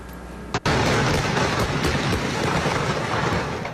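A fireworks explosion at an illegal storage site in Babahoyo, Ecuador, before dawn: one abrupt loud blast followed by a long, rumbling roar of burning and crackling that fades only slightly over a few seconds.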